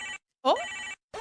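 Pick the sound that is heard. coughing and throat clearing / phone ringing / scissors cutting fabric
phone ringing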